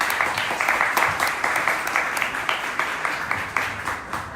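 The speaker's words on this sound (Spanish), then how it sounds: "Les pido un aplauso para Victoria Pinto" An audience at a Spanish-language book presentation claps for the book's editor, a steady wash of applause with distinct individual hand claps standing out, moderately loud and continuous.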